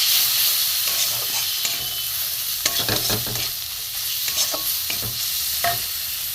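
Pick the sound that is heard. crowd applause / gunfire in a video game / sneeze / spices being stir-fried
spices being stir-fried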